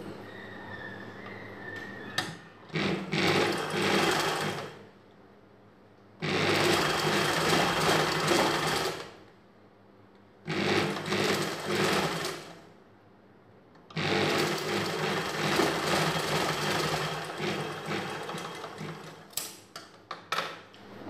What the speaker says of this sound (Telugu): అలానే రెండో వైపున కూడా స్టిచ్ చేసుకోవాలి అంచులు ఫోల్డ్ చేసి